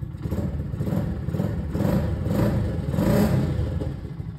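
A Daytona GP1R 250 four-valve motorcycle engine idles and revs below 3,000 rpm with a steady throaty rumble through its exhaust, swelling slightly a couple of times, close by and continuous throughout.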